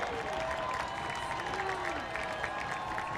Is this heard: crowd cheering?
yes